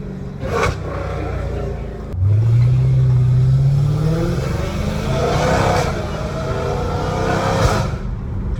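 Dodge Hellcat Redeye engine heard from inside the car, a loud steady roar that climbs sharply in pitch under acceleration, with shifts breaking the rise, continuous and close.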